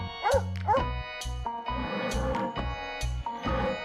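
Dog barking in repeated short, sharp yips and barks, several in quick succession with brief whimpering tones, close and clear with no talking.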